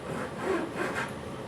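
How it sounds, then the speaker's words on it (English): A fine-toothed razor saw cuts guitar binding and purfling wood on the pull stroke, making soft, close rasping strokes that swell and fade in a slow rhythm. "Now these two razor saws, this guy cuts on the pull stroke"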